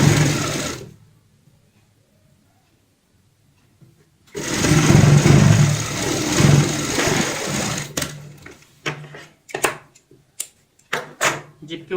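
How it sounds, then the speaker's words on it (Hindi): Sewing machine stitching over a zipper on a round cushion cover, a steady mechanical whirring burst of about four seconds after a quiet pause, followed by short clicks and handling knocks. "इस तरीके से जिप के ऊपर सिलाई लगाएंगे।"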